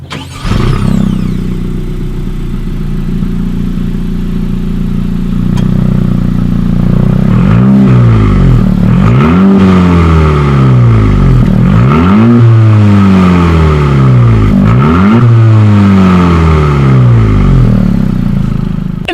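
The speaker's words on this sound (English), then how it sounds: "here is that exhaust clip" A 2017 Honda Civic Si with a center-mounted exhaust idles with a deep burble, then revs repeatedly, each rise and fall sweeping up and down, loud and close.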